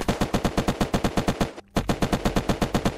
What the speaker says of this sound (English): Well, I got shot.